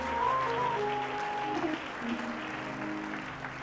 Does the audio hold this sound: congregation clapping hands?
yes